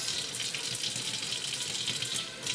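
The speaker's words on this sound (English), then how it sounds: "So I just rinse that, rinse my cilantro" Fresh cilantro rinsed under a running kitchen tap, a steady close gush of water splashing into a sink with no talk.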